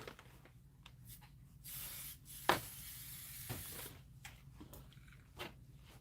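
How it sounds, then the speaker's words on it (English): A brief hissing spray burst is shot onto the bumpy side of quilt fabric, faint and close, lasting about two seconds in an otherwise quiet room with no talking. "I'm going to give it a little shot of spray on the bumpier side"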